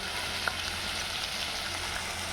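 Vegetables for aloo veg biryani fry in a pan with a steady, soft sizzle and a faint crackle, heard close up with no talk.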